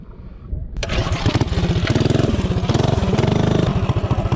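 A Tillotson 212 kart engine with a 24 mm flat-slide carburetor and a 5-inch intake is pulled into life after a brief quiet moment, then settles into a loud, fast, rhythmic putter close by.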